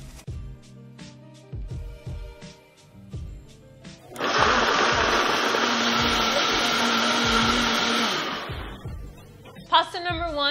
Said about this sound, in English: You put all of these ingredients in the blender, blend it all really well